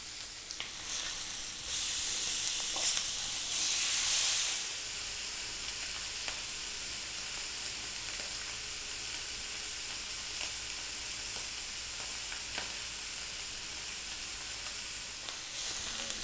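Sirloin steaks with their fat layer sizzle and spit steadily in a hot frying pan, a continuous bright crackling hiss with a louder burst early on as the steaks are turned, no voices.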